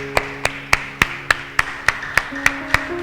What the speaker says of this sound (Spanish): ¿Pueden darle un aplauso al Señor?